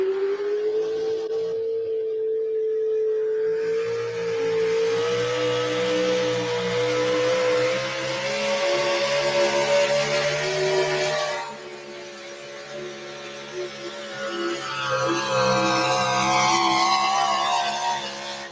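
A pulling truck's engine roars at high revs during a truck pull competition, sustained loud rising drone with a brief drop near the end before revving again.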